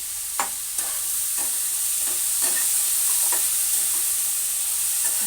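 Ground chili paste sautéing in a pan for a banana-blossom curry, a steady close sizzle with scattered spatula scrapes and stirring taps, no voices.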